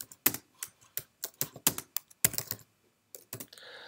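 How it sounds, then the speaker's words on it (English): Fingers tap a computer keyboard in short, irregular bursts of crisp clicks, close and fairly quiet, with brief pauses between groups of keystrokes and no voices. "So for example, we can type in here."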